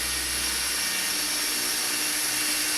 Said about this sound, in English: I recommend using a drill.